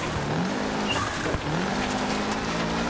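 A rally car in Dirt Rally 2.0 snaps through a handbrake turn into a hairpin, with a steady engine note that dips, a brief tyre scrub, then the revs climbing again on the exit, close and continuous.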